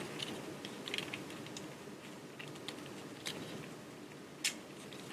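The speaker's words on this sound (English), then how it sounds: "Pop the sides, pull those down. Fold them back in." Plastic parts of a Transformers Studio Series Optimus Prime Voyager Class figure click and tap softly as they are popped out and folded back, giving a scattered run of light, close clicks with one sharper snap.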